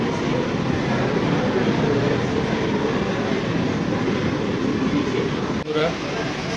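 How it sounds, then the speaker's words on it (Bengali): An AC EMU local train pulling out of Dum Dum Junction on the Ranaghat to Sealdah run, recorded from inside as a loud, continuous rolling rumble that dips briefly near the end. "ট্রেনটা ছেড়ে বেরিয়ে যাবে দমদম জংশন"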